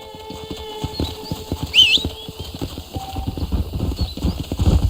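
Horse hooves clip-clopping in Red Dead Redemption, a steady run of hoofbeats with a brief whinny partway through and a soft background tone, the footfalls growing busier and heavier toward the end.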